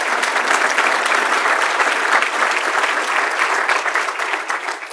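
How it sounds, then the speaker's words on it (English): Sustained applause from a large crowd, steady and loud throughout with no voices rising above the clapping. "let's give him another round of applause, please"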